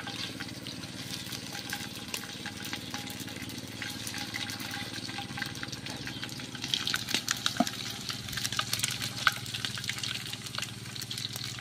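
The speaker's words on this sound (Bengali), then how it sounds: "তেলটা গরম হয়ে গেছে, ওই তেলের মধ্যে দিয়ে দিচ্ছি শুকনো লঙ্কা, কাঁচা লঙ্কা, তেজপাতা, 5 ফোড়ন" Dried red chillies, green chillies, bay leaf and five-spice frying in hot oil for khichuri: a steady close sizzle with scattered crackles and pops that grow busier midway, with no talk.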